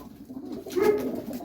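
A fancy pigeon of the Dumchir breed gives a soft, low coo, brief and close, in a pigeon keeper's loft with no talking.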